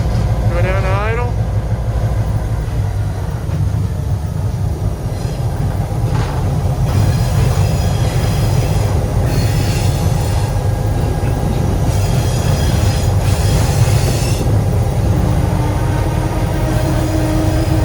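A train slowly pulling forward along track, a loud continuous rumble of rolling stock with high wheel squeals rising at intervals over the steady noise.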